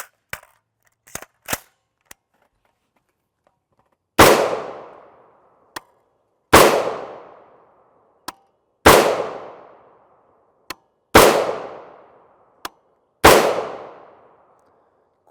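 Five loud, sharp 5.56x45mm 55gr FMJ rifle shots ring out through a Stac-Tactical muzzle brake, each with a booming decaying tail, spaced a couple of seconds apart with small clicks of handling between them.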